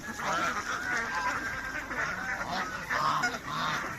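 Hen turkeys call repeatedly at a poultry sale, their honking, goose-like cries rising and falling over a busy background with people talking nearby.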